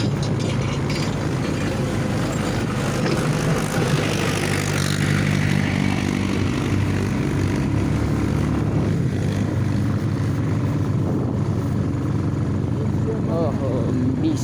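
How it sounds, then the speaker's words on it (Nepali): Tractor and motorbike engines running together on a dusty rural road, a loud, continuous rumbling drone that stays steady for the whole stretch, with voices talking underneath. "ट्र्याक्टरले भुटुटुटु हाम्रो पनि बाइकले भुटुटुटु उडाउँछ"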